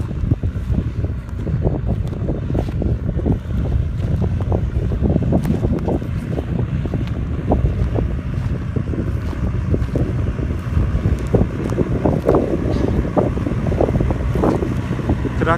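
A John Deere 5095 tractor's engine drones steadily while testing a plow on the Söke Plain, Aydın, Turkey, mixed with heavy wind buffeting the microphone outdoors; no talking.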